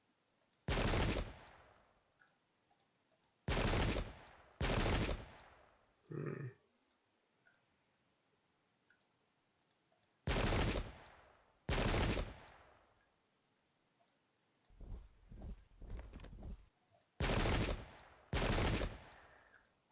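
Musket volleys from English Civil War troops in the strategy game Pike and Shot: a series of loud, crackling bursts of massed fire, some in close pairs, separated by quiet pauses.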